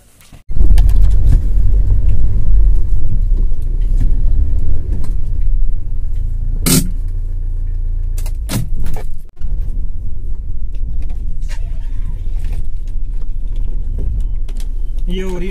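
A Toyota Innova off-roading in sand at night gives a heavy, steady low rumble of engine and drivetrain, close and loud, broken by a few sharp clanks and knocks.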